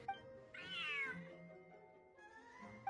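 A large cat in the Genshin Impact game gives one clear, drawn-out meow near the start, then a softer, lower trailing call, with quiet game background beneath.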